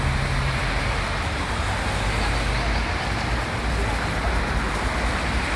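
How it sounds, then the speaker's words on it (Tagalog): Steady roadway traffic on a rainy night in Romania, a dense continuous wash of passing cars and wet road hiss, loud and unbroken throughout with no clear gaps. "Traffic na naman. Hindi talaga mapigil-pigil ang traffic."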